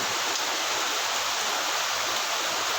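Steady summer rain in Mayiladuthurai, a dense, even hiss of falling water with no breaks, fairly close and constant throughout.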